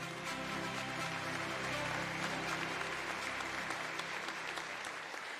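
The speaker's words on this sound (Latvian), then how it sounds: "droši ar aplausiem sagaidām" Sustained applause from an audience at the Sējējs 2025 agricultural award ceremony in Latvia, welcoming a prize winner to the stage; steady, dense clapping throughout with no voices over it.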